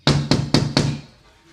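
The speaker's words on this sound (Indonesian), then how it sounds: "Bening datang mengetuk rumah Asnawi." Four sharp knocks on a house door during a theatre stage play, evenly spaced and loud, the last one fading into a short ringing decay with no voices.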